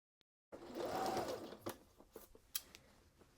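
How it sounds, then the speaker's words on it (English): A sewing machine stitching a pencil skirt's waistband to the skirt runs in a steady mechanical whir for a few seconds, then slows into uneven bursts of stitching with clicks, close and clear. "take this over to the sewing machine and sew the waistband and skirt together"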